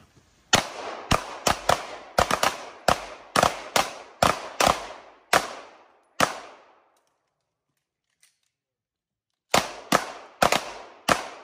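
Gunshots crack out at an outdoor shooting competition: a rapid string of about fifteen sharp, loud reports, a few seconds of silence, then another quick burst of four or five shots.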